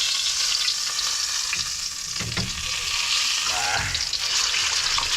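Surahan fish frying in hot oil, a close, steady crackling sizzle with occasional stirring and scraping noises running throughout.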